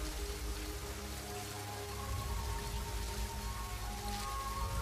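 First shower of rain falling steadily in the wild big-cat country, a dense even patter of drops that holds constant and swells slightly louder midway, with a low background rumble and tonal wildlife-documentary hum underneath.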